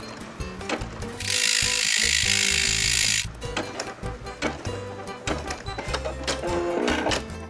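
A Brother M370 embroidery machine stitches gold metallic thread in a rapid, rhythmic clatter of needle strokes, close and steady, with a bright buzzing burst in the middle before the even ticking pattern resumes.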